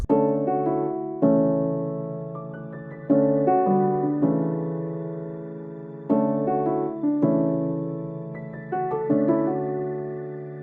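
Mellow lo-fi piano chords ring out one after another over a low sustained drone, each chord struck and left to fade before the next.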